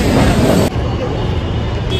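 A moving CSMT local train in Mumbai at night, heard from inside as a loud, steady rumble and roar of wheels and carriage, with a slight change in tone partway through.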